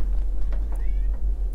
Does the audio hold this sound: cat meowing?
yes